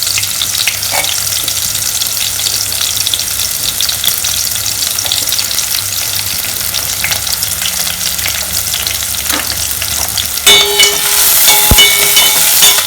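Chopped onion and green chili sizzle steadily in a hot pan for Kerala-style egg curry, a continuous close hiss with faint stirring clicks, growing louder and brighter near the end.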